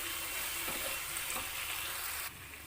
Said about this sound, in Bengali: আমি আর একটু এটাকে কষিয়ে নেবো